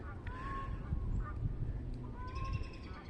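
Canada geese honk in woods coated by a March ice storm, several calls coming from some distance above a soft, steady background.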